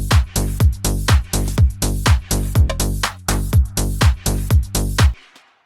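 A punchy drum loop plays with the kick and snare pulled out, leaving a tight, repeating rhythmic pattern of short hits that runs loud and steady before stopping abruptly near the end.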